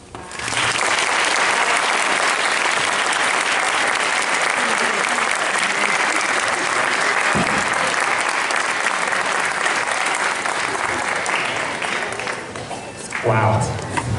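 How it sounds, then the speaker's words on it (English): Sustained audience applause following a speech at a Springwood concert and symphonic bands performance, a dense, steady roar of clapping from a large crowd that holds for over twelve seconds before tapering, with a brief louder flurry near the end. "One more round of applause for everyone."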